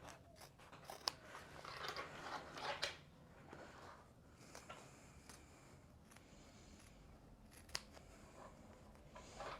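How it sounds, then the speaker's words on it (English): Scissors making small snips into sewing fabric along inner curves, a series of crisp, quiet cuts spaced irregularly, with faint handling rustle between them. "we're also going to, do some little snips, which we do on inner curves and everything when we're sewing"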